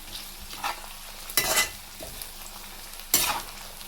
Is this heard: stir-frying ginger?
yes